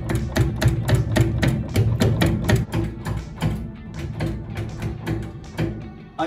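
Bangle making machine stretching and enlarging a metal bangle, producing a dense series of rapid metallic clanks and taps over a low mechanical rumble, steady and close, gradually thinning toward the end.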